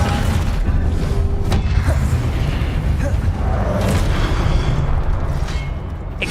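Booming spell blasts from the Confringo blasting spell in the Hogwarts Legacy video game, a dense continuous roar of explosive rumble with sharp bursts, loud and close throughout.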